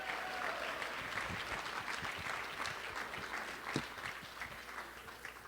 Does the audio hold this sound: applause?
yes